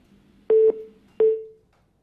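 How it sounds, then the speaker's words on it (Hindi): Telephone line tones during a live news phone call that has dropped: two short, loud electronic beeps about three-quarters of a second apart, then silence. "लगता है संपर्क टूट गया है या फिर उन्होंने फोन काट दिया है"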